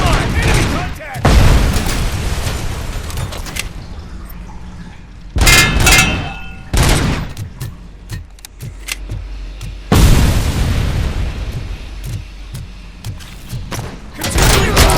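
Gunfire and explosions in RoboCop: Rogue City, with heavy booms and clanging impacts bursting out repeatedly between rapid volleys of shots, loud and close, while shouted voices call out over the combat.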